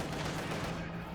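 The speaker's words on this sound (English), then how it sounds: "They actually have a DP light machine gun there." A DP light machine gun fires in a Company of Heroes 2 battle as a steady, dense rattle of automatic fire with a muffled, moderately distant quality, blended with constant battle noise and a commentator talking over it.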